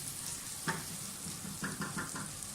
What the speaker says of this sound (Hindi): तो अच्छी तरह से मसाले को भून लें।